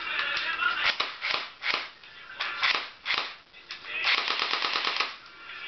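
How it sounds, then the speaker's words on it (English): A DPMS Panther Arms M4 CQB airsoft gun fires rapid bursts of close, snappy mechanical clacks with a whirring cycle, the bursts spaced apart and a long sustained burst near the end. "and I'll shoot it real quick."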